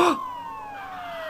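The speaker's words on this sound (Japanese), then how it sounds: "パトカーだ。 ここへ向かってるみたいだ。" A police car siren in the Ace Attorney video game wails in a single falling tone that slowly sweeps downward, steady and fairly loud, after a brief louder burst at the start, with no talking.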